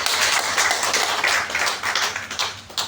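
An audience claps loudly for their guru, a dense, steady burst of many hands applauding close by with no talk over it.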